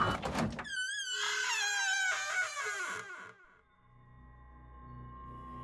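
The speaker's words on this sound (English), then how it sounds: "The freezer door opened." A freezer door in a cafe swinging open, heard as a long, creaking, whining groan that slides and wavers, then cuts off into a low, quiet hum with no voices.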